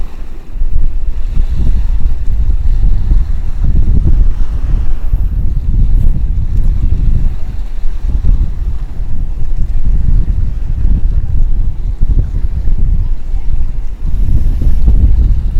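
Wind blows hard across the microphone beside the sea, a loud, constant low rumble with waves surging underneath, steady and close throughout.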